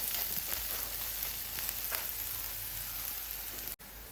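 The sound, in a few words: small onions and garlic stirred and frying in a pan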